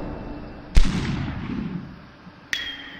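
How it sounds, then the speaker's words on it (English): Gunshots in the Superhot video game: one sharp close shot followed by a decaying boom, then a second crisp report about two seconds later with a ringing metallic tail. "Let's just aim fire."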